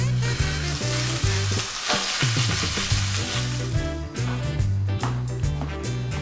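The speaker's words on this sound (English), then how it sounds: "Today I'm gonna show you how to cook them on the stove." Blended turkey and mushroom burger patties frying in a pan on the stovetop, a loud, close, steady sizzle with a brief dip partway through, no voices.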